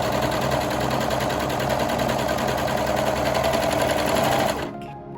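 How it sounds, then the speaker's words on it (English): Sewing machine stitching a folded armhole piece for a one-shoulder top, a steady fast mechanical whir running loud and close before stopping abruptly near the end. "you're going to stitch right along this line here"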